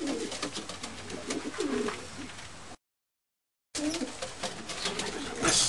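Racing pigeons from South Australia coo inside a loft, a steady stream of soft low coos and rustling that stops briefly for a silent gap and then resumes, close and moderately loud, with no talk.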